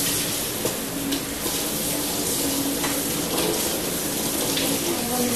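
Water runs steadily from a tap over beef ribs being washed in a kitchen sink, a continuous, fairly loud hiss and splash with no break.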